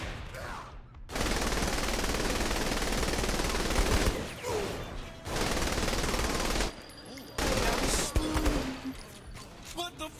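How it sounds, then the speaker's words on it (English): Sustained bursts of minigun fire in the video game Saints Row The Third, loud continuous rattling in several long volleys separated by short gaps, with game voices mixed in. "Minigun up top!"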